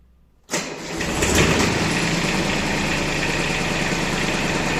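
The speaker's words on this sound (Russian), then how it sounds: "Сейчас попробуем завести его и посмотреть, как же он работает." A Yanmar F6 Japanese mini tractor engine cranks and catches after a brief silence, then settles into a steady, loud, close diesel idle with a constant rhythmic throb and no talking.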